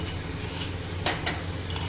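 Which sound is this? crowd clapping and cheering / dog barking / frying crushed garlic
frying crushed garlic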